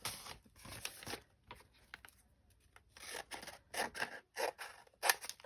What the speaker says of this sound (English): I think I'll trim the top.